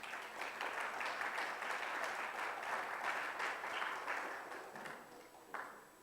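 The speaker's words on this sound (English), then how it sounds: "Let's give them another round of applause" An audience at a motorcycle awareness and safety event gives a sustained round of applause, steady and moderately distant, tapering off near the end.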